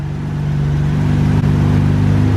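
A Nissan GT-R engine idles steadily with a low, even hum and a brief dip partway through, running alone with no talk.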